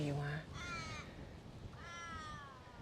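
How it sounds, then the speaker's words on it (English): Crows caw in a garden where scraps are left out each morning, giving a couple of harsh, drawn-out calls at moderate distance, with a brief low sound at the very start. "These crows are here."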